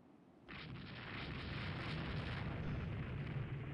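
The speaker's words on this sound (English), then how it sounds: "Till Danzig class hit by a torpedo" A torpedo strikes a Danzig class ship in the naval strategy game Rule the Waves 3: a sudden deep explosion bursts in after a quiet moment and swells into a sustained, heavy rumbling roar.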